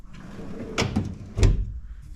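A tool cabinet drawer slides and thumps twice in a quiet room, two short knocks less than a second apart, close by and moderately loud.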